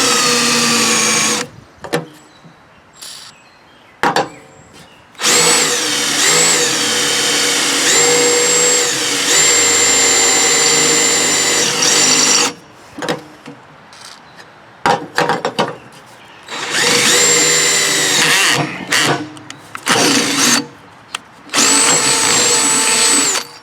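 A power drill bores holes into the steel mower deck of a John Deere LA10 lawn tractor, loud and close, whining in several long sustained bursts with the pitch shifting under load, separated by short silent gaps.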